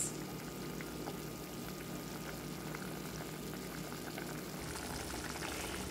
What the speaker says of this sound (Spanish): Así que dejamos hervir 5 minutos